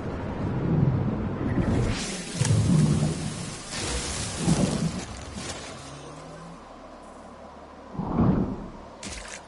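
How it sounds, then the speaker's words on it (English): Thunder rumbles in the video game No Man's Sky during an incoming storm, several heavy rolling booms a couple of seconds apart over steady rain, loud and close. "Ooh, incoming storm."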